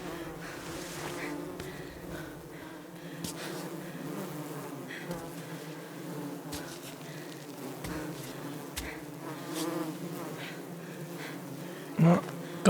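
Bees buzz continuously in the climbing survival game Cairn, a dense close insect drone that holds steady throughout with small clicks and shifts, ending with a couple of louder knocks.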